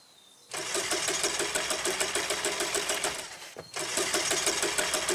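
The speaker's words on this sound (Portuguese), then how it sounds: "Anda logo, Jacob, liga a van." A van engine failing to start in the video game The Quarry: a loud, rhythmic cranking whir that runs for about three seconds, stops briefly, then cranks again without catching.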